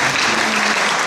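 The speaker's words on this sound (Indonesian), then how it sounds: "Kita beri tepuk tangan yang meriah." Congregation applauding during a church Christmas service, a dense, steady wash of many hands clapping close and loud, with no talk over it.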